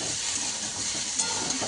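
Sliced young jackfruit frying in oil until browned for a curry, a loud continuous sizzle with faint stirring clatter, close and uninterrupted.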